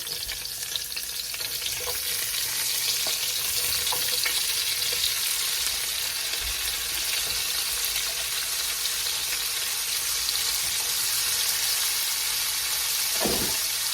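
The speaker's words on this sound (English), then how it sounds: "And so what you want to do at this point is add your onions." Onions sizzle and fry in rendered beef fat in a pan for Salisbury steak gravy, a loud, continuous crackling hiss with occasional faint stirring clinks and no voices.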